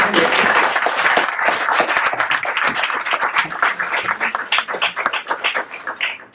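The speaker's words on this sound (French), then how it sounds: "que l'on peut accueillir sous un tonnerre d'applaudissements" An audience at an after-work gaming event claps to welcome a speaker. Loud, dense applause at first thins into scattered individual claps as it fades.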